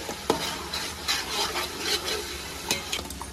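Onion paste and a mint, coriander and green chili paste are stirred in a sizzling pan for chicken biryani, soft scrapes and a few knocks over a constant fry hiss, close and brief with no talking.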